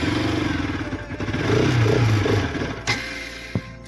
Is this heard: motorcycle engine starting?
yes